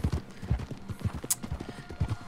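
Horse hooves clip-clop in a steady walking rhythm in the video game Red Dead Redemption 2, close and fairly quiet, with one brief sharp click partway through.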